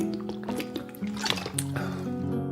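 Liquid gurgles and drips in a short burst from the Lucy video game, where a character drinks cold water, close and moderately loud with faint overlapping tones.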